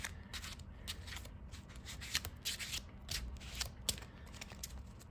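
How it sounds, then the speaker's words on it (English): A deck of trading cards is shuffled by hand close up, making repeated riffling bursts of crisp card flutter over several seconds. The sound is quiet and no voices are heard. "Let's go ahead and shuffle."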